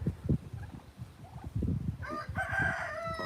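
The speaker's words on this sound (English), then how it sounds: "I have some cockerels in that pen right over there." Cockerels in a farm pen crow loudly near the end, a strident drawn-out call following scattered low clucks and shuffling sounds from the fowl close by.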